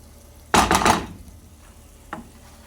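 Food hits hot oil in a pan for a cooking session, giving a loud burst of sizzling that fades over about a second, followed later by a second, smaller sizzle.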